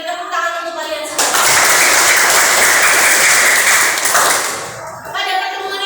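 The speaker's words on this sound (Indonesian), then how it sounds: "Tepuk tangan untuk kalian semua." A classroom of students claps together for a few seconds, a bright burst of applause framed by a teacher's voice before and after.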